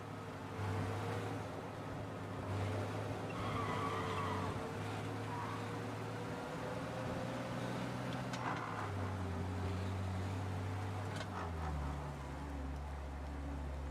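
A car engine in Mafia Definitive Edition hums steadily as it drives, its low drone shifting in pitch as the vehicle changes speed, with faint road and ambient noise around it.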